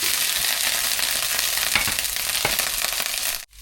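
Garlic hits hot oil in a pan with a loud, close, continuous sizzle and crackle that runs steadily for a few seconds, then cuts off abruptly at the end.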